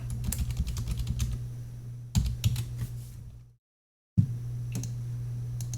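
A password being typed on a computer keyboard, heard as quick, close clacking keystrokes in short runs over a low steady hum, with a brief silent gap before the typing resumes.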